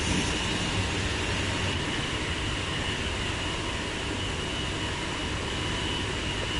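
A TGV high-speed train in the Train Sim 5 video game, running on the LGV Méditerranée line, makes a steady, loud broadband rush of rolling and wind noise that holds evenly throughout with no pauses.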